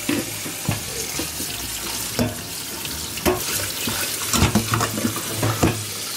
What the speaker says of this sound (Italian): E ora la raffreddiamo anche sotto l'acqua fredda.